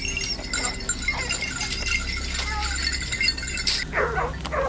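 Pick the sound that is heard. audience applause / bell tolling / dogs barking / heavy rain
dogs barking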